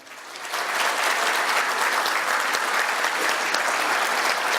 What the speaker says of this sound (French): Donc, sous vos applaudissements,